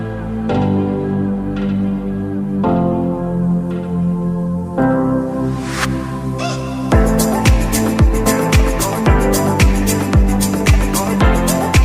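A toy bird-call whistle is blown, producing long warbling tonal notes at first, then a fast, rhythmic series of bright chirping bursts, loud and close.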